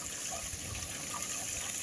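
Water pours steadily into a village well that irrigates fields of wheat and chickpeas, a continuous close rushing trickle with no breaks or voices.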